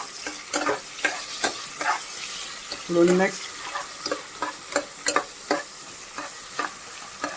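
Ginger and garlic sauté in a pan in a home kitchen, with a regular rhythm of spatula scrapes and stirs over a steady sizzle, close up. A brief word is spoken partway through.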